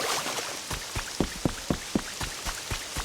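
Rain in the video game Pokemon Pokopia patters steadily under a constant wet hiss. A regular series of sharper drips taps out a rhythm near the listener, and nobody speaks.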